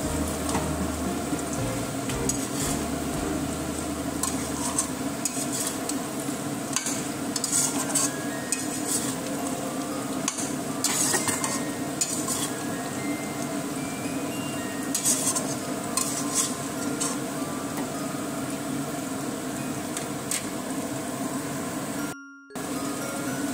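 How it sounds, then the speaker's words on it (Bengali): Mutton frying in a pot over a high flame is stirred steadily, with a spoon scraping and clinking against the metal amid a continuous soft sizzle, close and unbroken for a long stretch. "তারপরে আবার ভালো করে হাই ফ্লেমে মাংস কিছুটা কষে নেব।"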